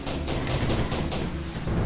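Rapid bursts of gunfire in a video game, a dense run of sharp repeated shots firing steadily and loudly over a couple of seconds with no talking.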